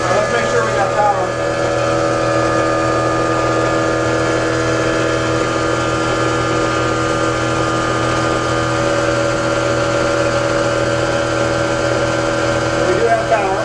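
A self-running 2000-watt fuelless generator hums steadily and loudly throughout. Its drone stays constant and close, with no pauses or changes.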